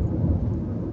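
Night rain falls in Johor, Malaysia, heard as a dense, steady, low-heavy wash of sound that holds constant for about a second, with no voices.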